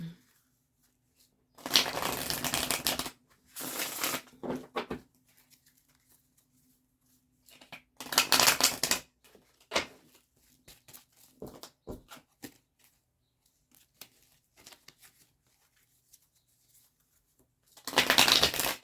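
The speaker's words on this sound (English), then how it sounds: "Let's shuffle this deck up a little bit." Bursts of a tarot card deck being shuffled, several rapid riffling passages separated by quiet pauses, close and fairly crisp.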